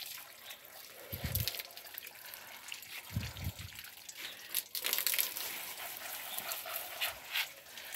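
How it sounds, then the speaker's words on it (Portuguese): Orchids being watered with ordinary tap water, the water falling onto the ground in soft trickles and splashes with a few low thumps, fairly faint and without speech. "Aí eu molho bem, deixo cair bastante assim no chão"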